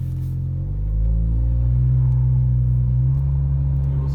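A 2019 Honda Accord Sport engine climbs in a steady rev and holds at elevated RPM, a continuous loud low drone with rising harmonics and no pauses.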